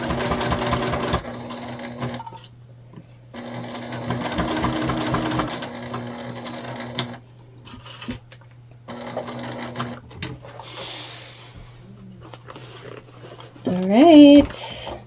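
A sewing machine stitches a sling bag in several bursts of rapid, mechanical whirring and clatter separated by short pauses, with a motor hum underneath and brief speech near the end.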